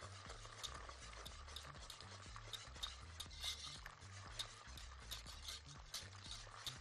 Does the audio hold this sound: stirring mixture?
yes